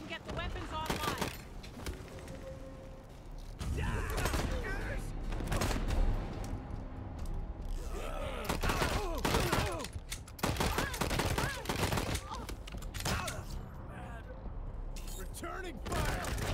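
Video game gunfire in Wasteland 3 crackles in repeated bursts and volleys, with sharp shots and rattling fusillades, mixed with in-game voices and a player talking between the shots.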